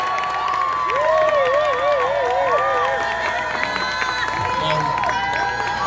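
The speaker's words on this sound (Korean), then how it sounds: "다시 한번 이현수 군에게 큰 박수 부탁드리겠습니다" A student's speech at a party's founding event draws a large crowd's sustained applause and cheering, loud and continuous throughout, with shouted voices rising above the clapping.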